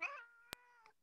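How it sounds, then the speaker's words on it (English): A cat cries out in one short, wavering meow, close and fairly loud, followed by a faint click and a brief small sound, then quiet. "Somebody's kitty is crying."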